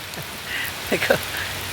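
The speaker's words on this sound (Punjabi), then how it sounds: "ਬਾਰਿਸ਼ ਬੜੀ ਆ ਗਈ" Steady rain hisses across the whole clip, with a brief murmur of a voice partway through.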